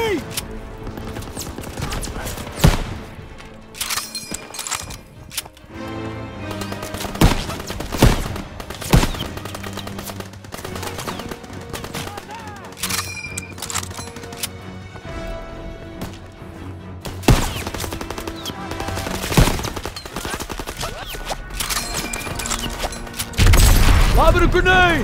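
Call of Duty WWII D-Day battle on a shelled beach, with a hayloft machine gun firing dense rattling bursts amid scattered explosions and booms, loud and continuous throughout, while shouted voices and orders break through the chaos.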